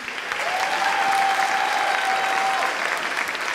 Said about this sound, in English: Let's give a special round of applause to our 6th grade chorus members